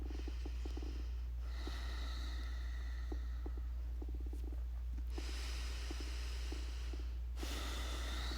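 Deep breathing during a yoga session: slow, airy inhales and exhales close to the microphone, repeating in long swells over a steady low hum.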